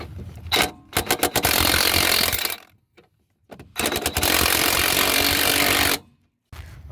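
Ratchet working a 21 mm bolt off the steering knuckle of a 2015 Dodge Durango Citadel 3.6L, with two long bursts of dense mechanical clicking and whirring, close and loud, split by a short quiet pause.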